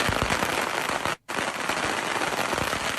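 Dense July 4th fireworks and firecrackers in America crackle and pop almost nonstop, loud and close, with rapid overlapping bursts and one brief silent gap partway through.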